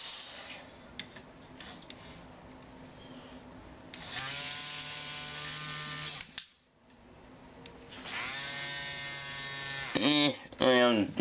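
Small electric motor of a robotic arm whirring in two sustained high-pitched bursts with a rising and falling whine, close, separated by quieter gaps with talk.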